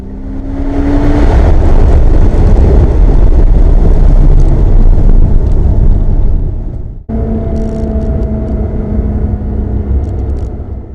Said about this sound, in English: this will give you a good idea of what the car sounds like